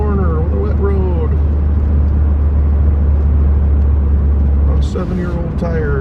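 A car driving on a wet road, its steady loud low rumble of engine and tyre noise running throughout, with someone talking over it.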